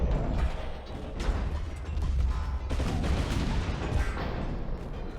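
Heavy naval gun salvos in the warship battle game Ultimate Admiral: Dreadnoughts, a dense, continuous rumble of booming fire and mechanical clatter, loud and sustained throughout.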